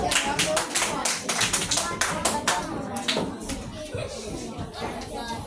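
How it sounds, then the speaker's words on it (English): Children in a classroom clap in a burst of applause, many hands tapping quickly and close for a few seconds before tapering off into scattered claps under faint chatter. "Give yourselves a round of applause."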